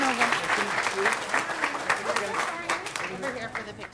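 A room at a school governing board meeting breaks into warm, sustained applause for students, with a dense and even patter of many hands and a few voices murmuring underneath.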